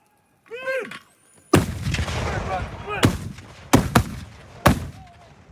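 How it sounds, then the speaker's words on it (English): Mortar fire at a live-fire military exercise with PNG and New Zealand defence forces, several heavy booms with rumbling tails in open air, interspersed with a few brief voice-like calls. "gave an insight to the live fire mortar exercise"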